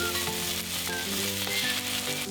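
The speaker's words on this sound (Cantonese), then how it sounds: "然後落雞翼煎大概2分鐘" Chicken wings fry in hot oil in a wok over medium heat, a steady loud sizzle with crackling spits throughout, music playing underneath and no talking.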